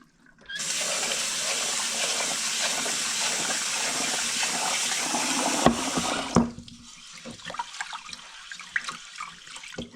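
Tap water gushes steadily into a pot while rice is rinsed. After several seconds the flow cuts off, leaving light clinks and splashes from the pot.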